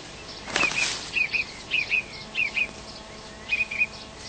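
A thrush flutters its wings in a cherry tree, with a brief burst of wingbeats followed by a series of short, paired chirping calls repeated at close range in a quiet outdoor setting.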